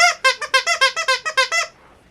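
A squeaky pineapple-shaped plush dog toy squeaks about ten times in quick rhythmic succession, each squeak loud, close and high-pitched, then falls quiet.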